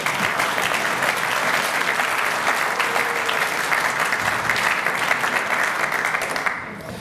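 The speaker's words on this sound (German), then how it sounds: "das ist ein Beifall wert" A beer-hall audience at a political rally in Munich's Augustiner-Keller applauds a speech with loud, sustained clapping that runs steadily for about seven seconds before starting to fade.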